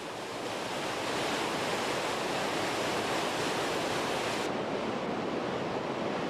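Dense, roaring broadband wash of the Rhine Falls at Neuhausen, Switzerland, as the river plunges 23 metres, loud and continuous without a break, with no voices.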